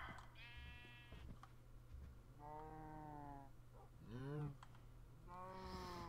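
Sheep bleat in Minecraft while a wolf attacks the flock: several drawn-out, wavering bleats spaced a second or two apart over a steady low hum, with soft keyboard clicks in between.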